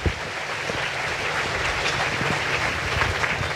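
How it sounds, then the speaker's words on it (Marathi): An audience at a Shiva Mahapuran religious discourse gathering bursts into dense, continuous applause for a few seconds, a steady wash of claps with no voices on top. "एकदा ताईंकरता एक जोरदार टाळ्या"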